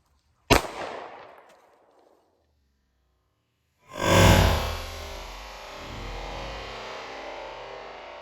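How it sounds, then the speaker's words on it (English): A single sharp 9mm pistol shot fired into a target of two stacked books used as improvised body armor, a loud crack with a decaying tail, then after a pause a long burst of broadband rumble and hiss. "now we're gonna shoot the double book with the 9mm."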